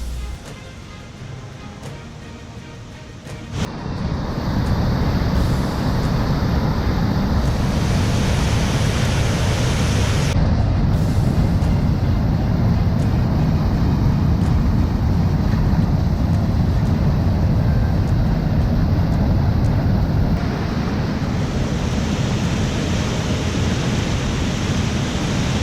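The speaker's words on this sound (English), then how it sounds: "The wide river rushes through the narrow quartzite rocks, cutting a path through the canyon" A wide river rushes through narrow quartzite rocks below a waterfall in a canyon, making a loud, steady broadband roar that swells after a few seconds and holds continuously, close and alone.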